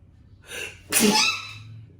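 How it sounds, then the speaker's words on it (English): A single sneeze up close: a quick in-breath, then a sharp, explosive burst that trails off in a breathy hiss. "Are you gonna sneeze?"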